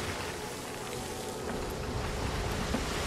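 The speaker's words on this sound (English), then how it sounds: "Technically, it's raining." Rain falling in the pirate video game Sea of Thieves, a steady soft hiss of rain on surfaces with faint creaking and water around a ship, no talk.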